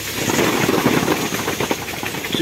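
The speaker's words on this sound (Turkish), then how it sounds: "Daha sonra traktörü çalıştırır" A tractor engine running at an orchard during the Malatya apricot harvest, giving a steady, loud rumble with a hissing edge, heard alone with no talk.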